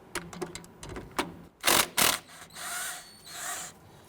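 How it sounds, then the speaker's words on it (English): A 12mm socket ratchet clicks in short runs as it loosens the flex hose nut on the front strut assembly of a 2008-2013 Infiniti G37, with a few sharper metallic knocks and scrapes close by, no talk. "Using a 12mm socket, loosen and remove the nut anchoring the flex hose."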